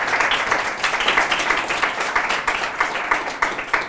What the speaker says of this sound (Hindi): हमें जोरदार तालियां बजा दें यीशु के लिए।